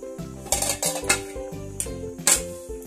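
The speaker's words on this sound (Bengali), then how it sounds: "এখন ঢাকনাটা খুলে দেখব মাছটা" Metal pot lid lifted off a pot of simmering hilsa fish curry (ilish morich jhol), several clanks and scrapes of metal cookware close by, with no talk.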